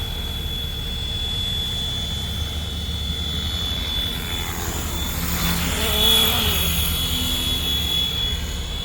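A large FW450L RC helicopter flying nearby gives a steady whirring rotor and motor drone with a high thin whine, swelling briefly louder toward the end.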